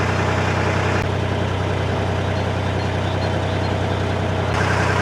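A narrowboat's engine runs at a slow, steady cruising pace on the Grand Union Canal's Leicester Arm. The low, constant throb is loud and close and continues unbroken with no talk.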